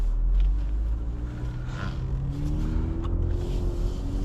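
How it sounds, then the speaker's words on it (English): A 2025 Cadillac CT5-V driving on the road on a cold day, heard from inside as a steady low engine rumble with a gently rising drone as it pulls along, no talking. "let's get this 2025 Cadillac CT5V out on the road and see how it drives"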